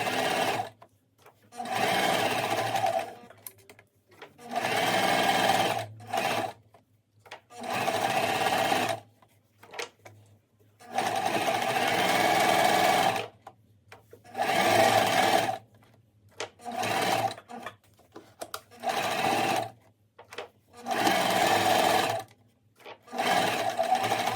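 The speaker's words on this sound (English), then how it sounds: "we're gonna sew it with a 1/4 inch seam allowance or 1/2 centimeter seam allowance." Sewing machine sewing a French seam at a quarter-inch allowance, running in repeated loud bursts of a few seconds each, separated by short pauses.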